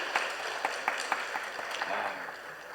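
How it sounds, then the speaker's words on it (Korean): Applause from a church congregation welcoming a newcomer at a Sunday service, a steady patter of many hands clapping with a few sharper claps standing out, moderately loud throughout. "따뜻한 환영의 박수 한번 보내주시기 바랍니다"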